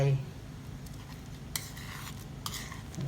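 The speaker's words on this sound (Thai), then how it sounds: "เสร็จแล้วก็ใส่ข้าวลงไป" Rice drops into a hot, lightly oiled pot for Thai khao jee, giving a soft sizzle with a couple of sharp utensil scrapes and clinks against the pot, fairly quiet and without talk.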